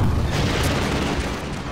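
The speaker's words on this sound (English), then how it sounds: "Oh no, they shot my rocket down." A rocket in Half-Life 2 is shot down and explodes in a loud, sustained boom with rumbling low-end debris that fades slowly over a couple of seconds.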